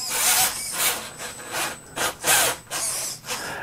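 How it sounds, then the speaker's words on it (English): An Axial Capra RC rock crawler's servo motor works in short, noisy whirring and grinding bursts, several close-up pulses starting and stopping in uneven rhythm, with no talk over it. "I can hear the servo in there working."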